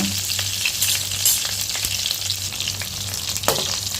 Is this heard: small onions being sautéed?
yes